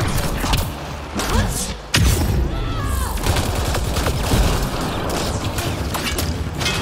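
Enemy turret gunfire in the Mass Effect Andromeda video game, a dense, loud barrage of shots and thuds with a sharp blast near the two-second mark, continuing steadily throughout.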